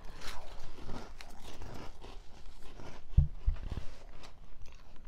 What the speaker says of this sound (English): they can hear us chewing and swallowing